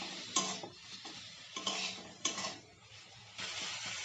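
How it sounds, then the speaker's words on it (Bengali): Bottle gourd leaves being stirred and fried in a pan, close scraping strokes of a spoon against the pan every second or so over a soft sizzle. "এখন পাতার সঙ্গে সব কিছু নাড়িয়ে চাড়িয়ে মিশিয়ে নেব।"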